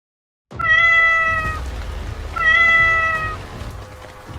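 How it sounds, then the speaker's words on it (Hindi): A cat meowing in a Hindi animated horror story, two loud, clear, drawn-out meows close up, separated by a short pause, with no talking. "फिर डायन ने बिल्ली का रूप लिया और इधर उधर चलने लगी।"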